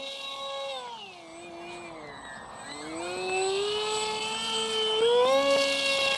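Small Modster Easy Trainer RC airplane with an electric motor powered by a two-cell LiPo, flying a power loop: a steady whining buzz that dips in pitch, then climbs and swells louder as the plane comes around, heard alone.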